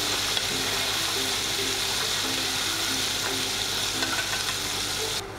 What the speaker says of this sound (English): Fry them about 5 to 6 minutes as you flip them over from time to time.